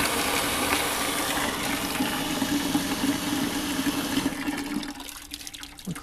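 Hot water runs from the tap of a solar water heater in a steady, close rushing gush that eases off slightly near the end.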